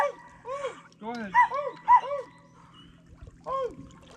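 Monty the dog gives a string of odd, strangled bark-like yips and whimpery cries in short bursts, close by and fairly quiet, with a person speaking in between.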